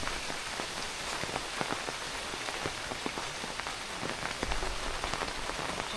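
Steady village rain patters on surfaces with dense, even drops and occasional sharper splashes, continuous and close with no voices.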